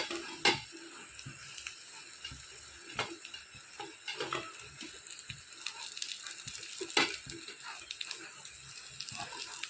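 A spoon stirs ground coconut paste into crackling mustard seed tempering in a pan while preparing drumstick leaf thoran, with soft scraping, clinks against the pan and a light sizzle throughout, close by.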